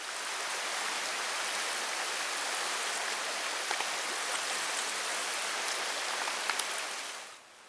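The Mosquito River rushes and flows in a steady, dense wash of water noise, close and continuous with no voices, fading out at the end.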